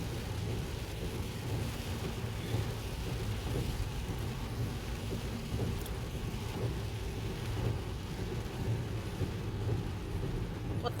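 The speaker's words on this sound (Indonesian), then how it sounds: "Sepi, hujan." Steady rain falls at night in a quiet small town, giving a constant low, faint wash of sound with a soft rumble underneath and no talk.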